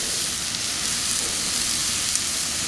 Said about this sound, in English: Nice sizzle, folks, coming.